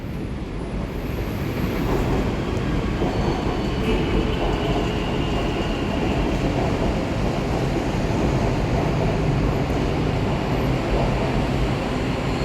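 Continuous rumbling roar of a BTS elevated skytrain running past near Ha Yaek Lat Phrao, Bangkok, with steady wheel and track noise and a faint high whine, loud and unbroken.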